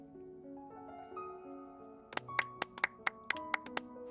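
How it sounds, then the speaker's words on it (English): Applause in the video game Genshin Impact, where a short run of sharp, evenly spaced claps follows a calm held musical backdrop, with no talking. "A round of applause, please."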